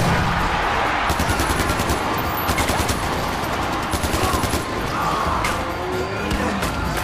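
Dense, continuous automatic gunfire from the video game Far Cry 4, loud and sustained with rapid overlapping bursts and crashes throughout, in an arena fight.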